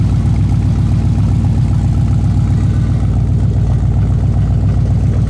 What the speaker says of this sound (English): Excellent sounding, looking dual exhaust coming out underneath that rear bumper